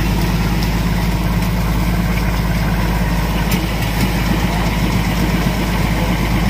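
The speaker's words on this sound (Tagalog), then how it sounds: "Si Raven, kinondisyon na ang kanyang ano makina." A steady boat engine idles and rumbles continuously at close range, a low droning hum with faint vibration and no talking.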